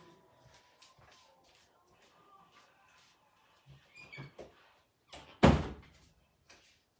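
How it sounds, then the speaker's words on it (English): A door is shut indoors, one solid thunk near the end preceded by faint rustling and shuffling, close and otherwise quiet. "I think I need to shut the door"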